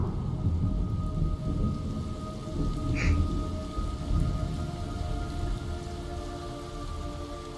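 Video game rainstorm: steady heavy rain hisses over a low rumble of thunder, with a brief bright crackle near the middle; no voices.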